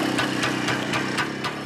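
An SHL M11W motorcycle engine, freshly rebuilt, idles after being kick-started, a close, steady two-stroke putter with regular rhythmic pulses.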